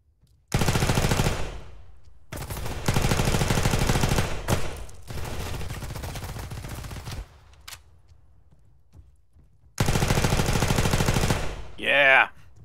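Submachine gun fire in the video game Arma 3, loud, close, sustained automatic bursts, four long strings of rapid shots separated by short pauses, ending with a brief rising chirp.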